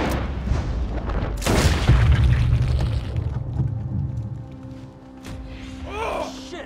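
Booming gunfire from the video game Red Dead Redemption 2 roars loud and close for several seconds, dense low rumble fading into quieter game ambience with brief sharp noises near the end.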